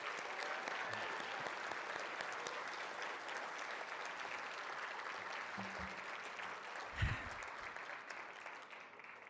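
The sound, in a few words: audience applause for evening's winners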